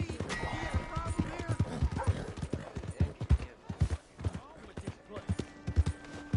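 Horse hooves clip-clop in Red Dead Redemption 2, an uneven run of close, hollow hoof strikes on hard ground, with voices talking in between.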